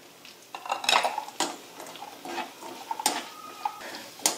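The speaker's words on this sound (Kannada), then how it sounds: "ನಾವು 1 ಕಪ್ ದ್ರಾಕ್ಷಿ ತೊಗೊಂಡಿನಿ, ಒಣ ದ್ರಾಕ್ಷಿ, ಅವು ಹಾಕೋತೀನಿ ನೋಡ್ರಿ." Dry raisins tipped into hot ghee in a pan, heard as clattering metal pan and utensil knocks with scraping stirring and a light sizzle, close and uneven, with no talking.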